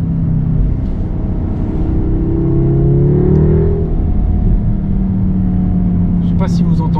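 Car engine revving up and settling, a rising whine over steady low rumble, close and fairly loud, with no talking over it; the car is a daily driver.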